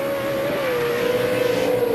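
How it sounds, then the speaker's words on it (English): Off-road Pro 2 race trucks scream at high revs at the TORC race in Primm, a steady sustained engine howl that stays loud and continuous without speech. "how wicked do these trucks sound when they're screaming"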